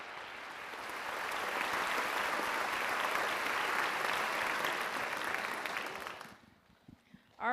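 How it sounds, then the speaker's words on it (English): Sustained audience applause fills a teachers of the year ceremony hall for about six seconds, steady and dense with many hands clapping, then tapering off abruptly into near quiet with a few faint stray sounds. "Let's give them all a round of applause for supporting our teachers."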